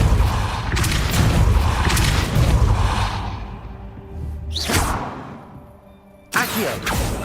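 The Depulso spell is cast in Hogwarts Legacy: a rumbling magical blast fades out, followed by two sharp whooshing bursts a couple of seconds apart. All are loud and close, with no talking.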